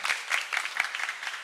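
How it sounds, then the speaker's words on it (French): A small audience applauds after a French-language show segment, the clapping steady and moderately close, with a few sharper individual claps standing out. "Veuillez applaudir."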